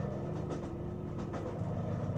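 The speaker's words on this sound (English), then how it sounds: "This train is now departing." Game train rumbling along steadily in a game called Blood of the Killer, a continuous low rolling drone with faint rhythmic clatter, fairly quiet and heard alone.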